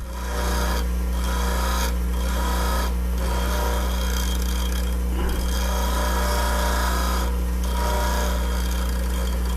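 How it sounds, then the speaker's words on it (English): A woodturning tool's edge is ground on a bench grinder. A constant motor hum runs under a series of raspy grinding passes that come in short, regular bursts about once a second. "I want to grind just that wing."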